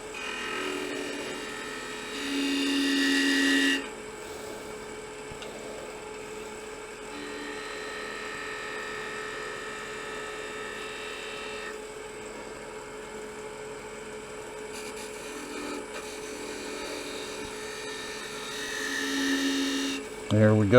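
Wood lathe spinning a wooden scoop while a cutting tool rolls a bead into it: a steady high whine and hum throughout, with louder scraping bursts near the start and end and a sharp clatter at the very end.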